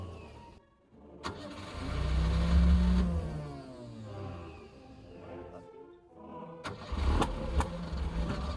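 A 1980 Bayliner powerboat engine is cranked by its starter motor. Rhythmic churning catches into a brief rough run, sputters out, and is cranked again, with bursts of close mechanical noise and no talk.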